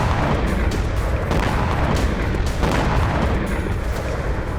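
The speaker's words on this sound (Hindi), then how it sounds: "ये 250 किलो विस्फोटक के साथ टारगेट पर हमला करता है" Blast from a HAMMER guided bomb carrying 250 kg of explosive in the Russia-Ukraine war, a loud, continuous roaring rumble that fills the whole stretch with deep booming energy and no voices.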